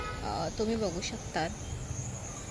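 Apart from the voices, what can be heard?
crickets chirping at night outside resort room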